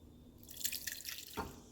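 Sweet and sour sauce made with orange bits drips through a strainer: faint, close patters of liquid with a slightly louder splash near the end, heard alone in a quiet kitchen.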